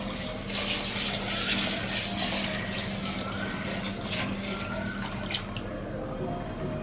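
Water is poured from a bucket into a small guppy aquarium being set up, making a steady, continuous splashing rush that runs through the whole stretch with no voices.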